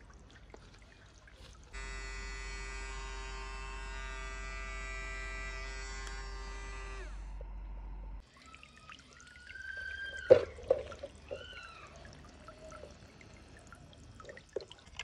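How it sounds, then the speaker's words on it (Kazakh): A whale-shaped fountain bath toy gives a steady electric motor buzz for several seconds, then cuts off; afterwards, water splashes and trickles with a few soft drips, close and quiet. "Кит фонтан болып осылай балаңызды қуантатын ерекше ойыншық деп айтуға болады."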